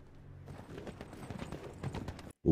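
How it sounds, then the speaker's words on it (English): A single horse galloping in a Game of Thrones episode, a rapid run of hoofbeats growing louder as it nears, ending in a sudden cut. "Just one singular horse running from something?"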